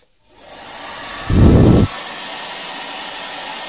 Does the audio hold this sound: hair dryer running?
yes